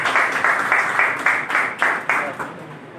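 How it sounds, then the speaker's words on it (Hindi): Audience applause at a company's monthly lucky draw ceremony and seminar, a steady wash of clapping with rhythmic swells, moderately loud and close, with a voice faintly underneath. "ताली सब अपने"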